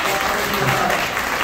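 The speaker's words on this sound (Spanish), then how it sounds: "Un aplauso para Lorraine Cortez" A crowd at a Mother's Day community event applauds an official, loud sustained clapping from many hands, close and steady, with faint voices murmuring beneath it.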